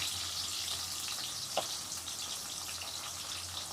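Onions and green chillies frying in a pan for a chicken curry, giving a steady, even sizzle throughout with one brief clink near the middle.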